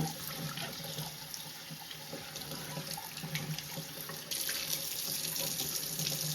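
Water runs steadily from a tap into a sink while juicer parts are washed with soapy water, a continuous rushing splash that grows slightly louder partway through.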